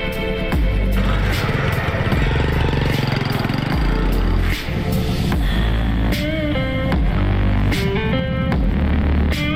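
A Malaguti Spectre 125 scooter engine runs steadily and loudly near the microphone, with a continuous rough mechanical drone and a few small throttle rises in revs.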